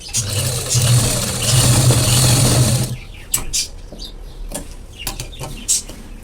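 A sewing machine stitches tucks into a blouse, running in a loud, steady whir for about three seconds before stopping, followed by quiet clicks and handling of the fabric.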